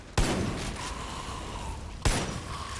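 Gunfire in the video game Far Cry 5: two sharp, loud shots about two seconds apart, each one ringing out into a decaying tail, with no talking.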